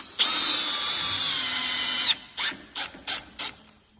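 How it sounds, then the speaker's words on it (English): A Bosch 18V FlexiClick GSR 18V cordless drill drives a 6-inch GRK lag screw with no pre-drill: one loud, steady two-second whirring run, then four short separate bursts as the screw is snugged home, close and alone. "This is the new Bosch 18-volt FlexiClick GSR 18V. Check out the torque on this bad boy."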